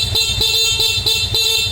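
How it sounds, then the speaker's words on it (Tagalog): A Honda RSX 110 motorcycle horn honks in a steady, repeated series of pulsing toots, loud and close over an idling engine. "Busina."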